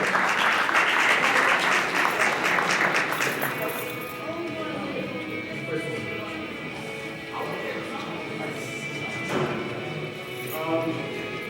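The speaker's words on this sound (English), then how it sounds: "give them one last final applause" Ceremony audience gives a loud burst of applause for new Pathfinders receiving certificates, then it fades after about four seconds into scattered claps, thumps and room noise.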